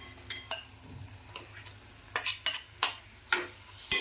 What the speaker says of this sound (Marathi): आता आपण कोळंबी टाकून घेऊया.